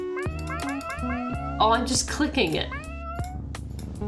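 Repeated short cat meows from the fat-cat idle game Chonkers ring out in quick succession, bright and close, mixed with clicking sounds while a person speaks briefly over them.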